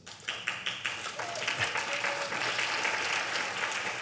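Dense audience clapping fills a village tenth-anniversary celebration after the board of directors is introduced, a steady, close wash of many hands with a few sharper claps early on.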